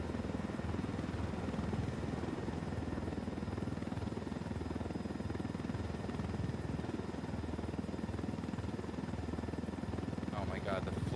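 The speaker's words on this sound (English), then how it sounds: "We can leave the chopper here and the rebels will pick it up." Helicopter in the video game Ghost Recon Wildlands, its steady rotor drone and buzz running continuously throughout, with players talking over it.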